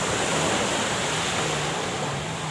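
Sea waves wash steadily onto Cha-am beach in Phetchaburi, a continuous broad roar of surf that stays loud and even throughout with no voices.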